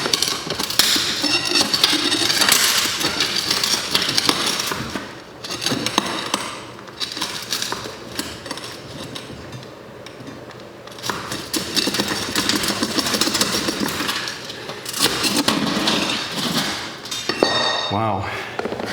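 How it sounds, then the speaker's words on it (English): A flat bar prying galvanized sheet metal off a Victorian fireplace, with loud close scraping, metallic clanks and rattling bangs that come and go over the clip, and a person talking at times. "Let's try the trusty flat bar."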